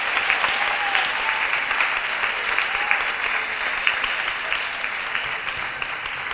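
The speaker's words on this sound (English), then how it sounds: "So can we give our administration a round of applause?" A school audience at a middle school small ensemble concert claps steadily for the administration, a dense, even wash of applause close by that carries on without a break.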